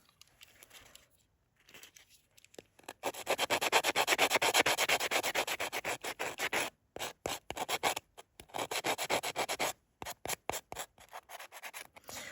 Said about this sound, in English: we're going to sand off the gloss on the hood of the car here.